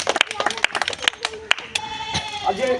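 An audience at a village ball game claps for a contestant, a burst of loud uneven hand claps with a voice talking over the end.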